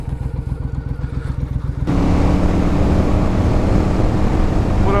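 A rusty motorcycle idles with a low, pulsing engine thump, then pulls away onto the road, and the sound swells into loud, steady engine roar mixed with wind rush.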